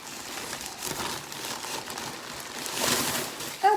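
Tissue paper crinkles and rustles as it is unwrapped outdoors, a steady close papery crackle that swells near the end, with faint birdsong in the background.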